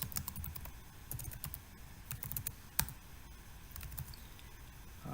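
Quiet, rapid clicking of keys on a computer keyboard, irregular typing with a few louder taps, nearby and faint.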